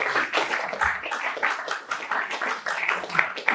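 Audience clapping at a speech: a lively, continuous patter of many hands applauding at moderate level for the full few seconds, with no other sounds standing out.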